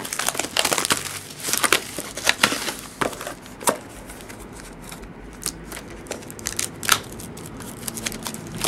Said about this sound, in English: Enough with the scissors.